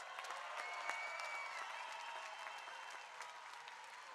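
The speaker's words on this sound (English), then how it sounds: "the rest of you graduates, give yourselves a big round of applause" Graduates applaud at a university spring commencement, a broad, even wash of clapping from a large crowd that holds steady and slowly eases, heard at a distance.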